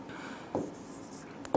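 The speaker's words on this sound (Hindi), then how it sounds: "मैं लिखता हूं यहां पर" Marker writing on a board in a class, a few short scratchy strokes heard close, with quiet room tone between them.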